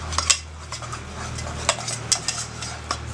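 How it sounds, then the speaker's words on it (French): Heated homemade fake-wound paste stirred in a pan, with a utensil scraping and clinking against the metal in quick irregular strokes over a low steady hum, fairly close and moderately quiet. "Vous faites chauffer tout ça et vous remuez."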